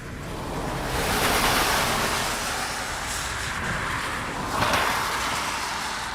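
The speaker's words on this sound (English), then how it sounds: "the car noise is a bit too much" Road traffic near RAF Brize Norton, cars passing close by as a broad steady roar that swells around the middle and again near the end, with no talk.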